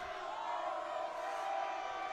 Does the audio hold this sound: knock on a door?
no